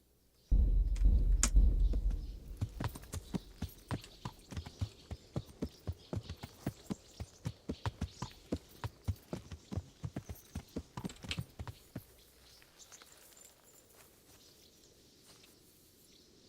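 A horse's hooves clip-clop at a steady walking rhythm in the medieval game Kingdom Come: Deliverance, close and distinct, starting after a low thump and stopping near the end, leaving quiet ambience.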